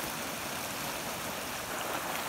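A brook at a spring campsite flows in a steady, even rush of water, unbroken and fairly soft, with no voices.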